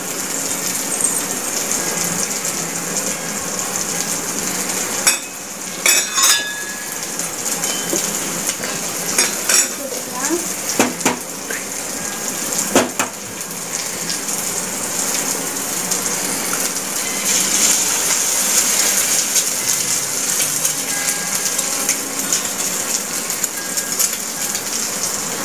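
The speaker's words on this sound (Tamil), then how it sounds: "இப்போ நம்ம எக் அடிச்சு ஊற்றிக்கலாம்" Beaten egg is poured into a frying pan with masala Maggi noodles. It brings a gushing sizzle under a steady frying hiss, broken by sharp clinks and scrapes of utensils against the pan.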